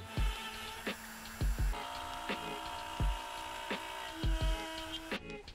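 A CNC router cutting wood with a 1/8 inch bit, a steady high whine with repeated low thumps and knocks as the bit plunges and moves, fairly faint and even in rhythm, no speech.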